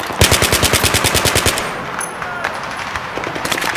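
Battlefield 3 gunfire opens with a loud, fast burst of automatic fire lasting over a second, then gives way to scattered, more distant shots and battle noise.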